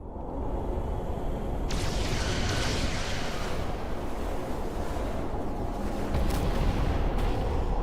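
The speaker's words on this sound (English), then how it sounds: "Fire photon torpedoes. Firing photon torpedoes." Photon torpedoes fire in the Star Trek Resurgence video game, a sustained loud rumbling barrage with a sharp surge near two seconds and renewed blasts toward the end, no voices.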